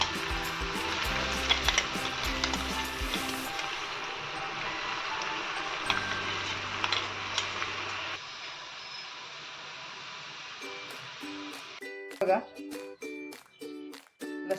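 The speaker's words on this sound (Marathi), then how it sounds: "लसूण आपण आता या तेलामध्ये फ्राय करून घेत आहोत" Garlic frying in hot oil for a green chilli pickle, a dense loud sizzle that fades and settles, then crackling pops and spoon taps toward the end, with a voice talking over it.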